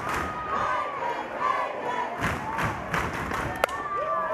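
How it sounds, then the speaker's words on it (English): A packed crowd at a 2024 NCAA softball regional final between Baylor and Louisiana roars and cheers loudly and continuously, a dense wall of voices with occasional louder swells and a sharp thud. "And now here comes the crowd in full throat."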